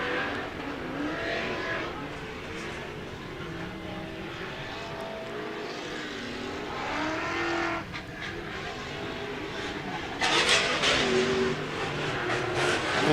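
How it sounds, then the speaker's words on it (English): Short-course off-road race trucks with LS-platform V8 engines roar past on a dirt track, a steady loud engine drone that swells as trucks come up and over, with a louder pass near the end. "Love that sound when they come up and over that LS platform motors that they run."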